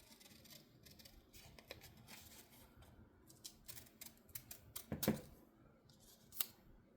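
Scissors snipping paper postage ephemera for a junk journal, a quiet, close series of irregular crisp cuts and rustles with a couple of sharper snaps near the end.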